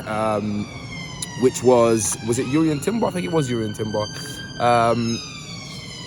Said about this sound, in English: These sirens are always in Brixton in my area.